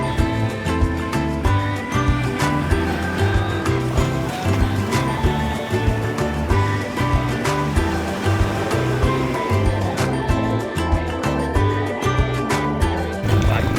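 Waves wash in a steady rolling rush, with rhythmic pulses of surf continuing throughout, fairly loud and close.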